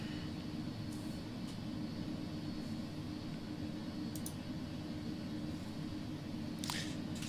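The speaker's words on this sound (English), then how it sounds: "This plane is also very loud." Engine drone of an Airbus A300-600 airliner in the X-Plane 12 flight simulator, a steady low roar with a constant hum, faint and unbroken, with no talk.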